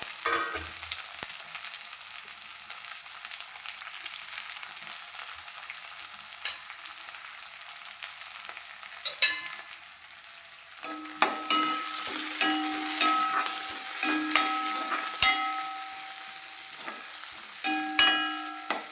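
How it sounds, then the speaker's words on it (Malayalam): Green chilies and curry leaves sizzle with onions in a hot pan, a steady close frying hiss that grows louder and busier partway through, with scraping stirs and clinks against the pan. "നന്നായി ഇളക്കി മൂപ്പിച്ചെടുക്കുക."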